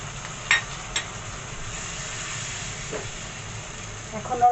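Ginger paste and spices frying in oil in a pan, a quiet continuous sizzle and hiss with a few short clinks of a spoon against the pan.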